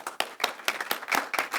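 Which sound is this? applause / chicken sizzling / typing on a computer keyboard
applause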